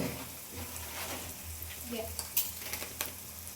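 Chilli powder, turmeric, salt and garam masala sizzling in a pan for a Karnataka-style egg curry, a steady close frying hiss with soft stirring scrapes and a few brief clicks.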